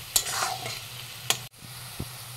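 Onions fry in a pan with salt and turmeric, a brief low sizzle with a few sharp spatula scrapes and knocks, close and without talk.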